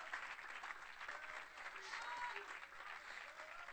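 A church congregation at an evangelical crusade applauds, a dense, steady patter of many hands clapping together, fairly distant and faint, with a voice faintly audible beneath.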